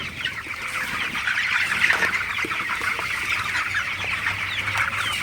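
Broiler chickens in a farm shed during cold winter, a dense continuous chorus of overlapping clucks and chirps, close and steady with no speech.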